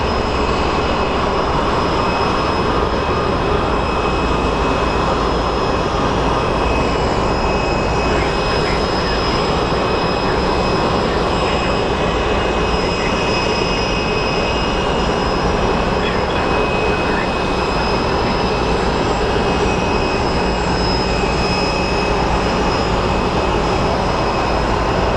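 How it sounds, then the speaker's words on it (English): A UPS Airbus A300 jet roars steadily at Phoenix Sky Harbor Airport, a loud continuous broadband engine rumble that holds for the whole stretch without fading. "Up next is an Airbus A300 UPS."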